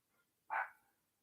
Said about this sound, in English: She's reacting to Sheba barking.